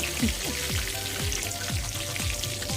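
Thai basil leaves fry in hot oil in a pan used for catfish, giving a dense, continuous crackle with rapid popping and spitting spatter, close and fairly loud.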